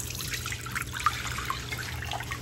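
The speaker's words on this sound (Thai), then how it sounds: "เทน้ำเลย" Fresh young coconut water pours out in a steady close trickle with small splashes, liquid running continuously into a container.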